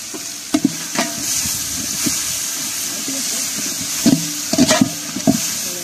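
Green chillies and tomato sauté in a pan for Mannargudi mutton biryani, a steady sizzle with intermittent scraping stirs of a spoon against the pan, while a voice talks over it.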